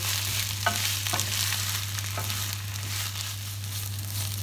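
Onion is stirred as it fries in a pan with wilted chicory greens, making a soft, steady sizzle under a low hum, with a few light scrapes of the spoon near the start, no voices.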